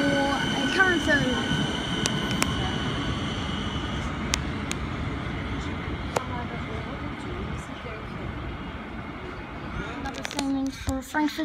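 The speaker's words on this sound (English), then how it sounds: "Train now departing for a current service." A suburban train pulls away from a station platform with a broad low rumble and rolling wheel noise, scattered clicks and metallic squeals, while a voice talks over it.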